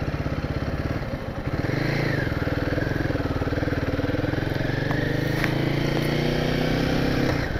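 A Royal Enfield Guerrilla 450 motorcycle engine drones steadily while riding, a continuous throaty rumble with slight shifts in pitch, close and fairly loud.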